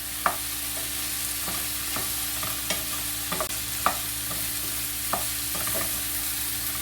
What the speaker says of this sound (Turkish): Güzelce karıştırıyorum.